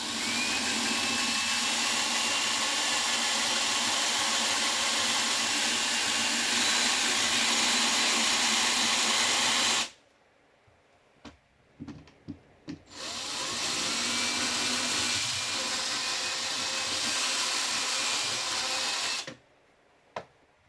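A spinning power tool grinds wood while shaping a Boyds varmint rifle stock for a Savage 110 .270, running loud and steady for about ten seconds, stopping briefly with a few blips, then whirring again before cutting off.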